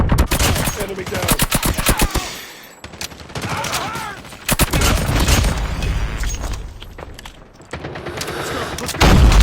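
Rapid bursts of nail gun fire in the mobile shooter game Call of Duty Mobile, loud repeated volleys of sharp shots with pauses and a burst of game sound effects in between.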